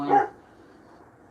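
A dog gives a sharp bark at the start and another short bark at the end, close by, with near-silence between them.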